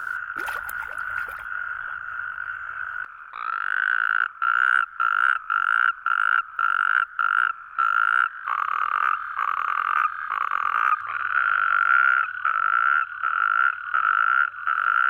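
A loud chorus of natterjack toads trills continuously, with rapid pulsing rattling calls overlapping in a dense, close, unbroken drone.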